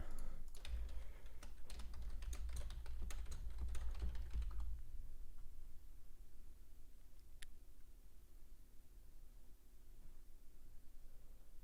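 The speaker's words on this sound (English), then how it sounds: "If you do hear typing, that's just me making alerts in my trading community that I offer." Rapid keystrokes clatter on a computer keyboard for several seconds, then stop, leaving quiet room hiss with one faint click afterward.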